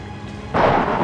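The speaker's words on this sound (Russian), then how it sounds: "А, это дождь еще. Понятно." In the video game Outlast (2013), a brief burst of thunder cracks in halfway through, joined by a broad wash of rain noise, loud and close.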